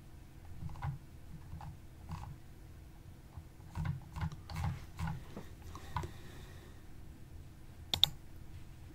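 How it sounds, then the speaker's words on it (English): Scattered keystrokes on a computer keyboard, quiet and intermittent taps and clicks with a low room hum underneath, close but faint, with no voices. "let's type in YouTube DL."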